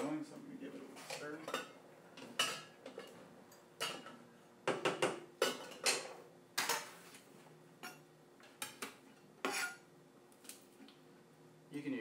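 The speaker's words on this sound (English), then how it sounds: "Rice is boiling, so I'm going to give it a little stir." A spoon scrapes and clinks against a pot of boiling rice during home cooking, irregular close metallic knocks and clatters over a faint bubbling background.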